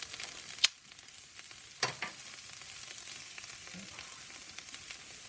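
Philly sandwich filling frying in butter on a soapstone slab over a Big Joe grill, a steady low sizzle and crackle with a few sharp spatula scrapes and clinks near the start.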